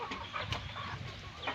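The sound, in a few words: chickens clucking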